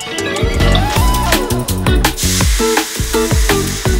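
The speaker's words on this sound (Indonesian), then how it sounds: "saya memulai hari ini dengan menumis bumbu halus di wajan terpisah" Ground spice paste sautés in a wok in a soto kaki sapi kitchen, sizzling steadily and close while rhythmic music plays loudly over it.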